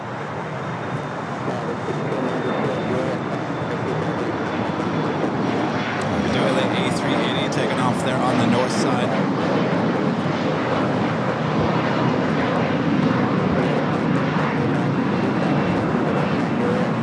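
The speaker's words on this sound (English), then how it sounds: "This is Korean Air Flight 18 taking off to Seoul on the A380" A Korean Air Airbus A380 takes off at LAX, bound for Seoul, as a loud, sustained jet roar that swells and stays strong, with faint traffic noise and some speech-like sounds mixed in.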